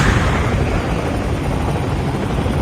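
An aircraft flies in the mobile video game Call of Duty Mobile, a loud, continuous, rumbling engine roar that holds steady and close for the whole stretch, with no speech.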